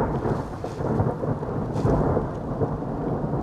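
An arriving rainstorm over City of Rocks, with a low rumble of thunder and the wash of rain surging and rolling continuously, fairly close and with no voices.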